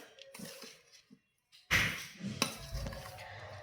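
A utensil scrapes and knocks against a bowl while cooking oil is mixed into eggless chocolate cake batter, with short clatters, a brief pause, then louder clinks and scraping up close.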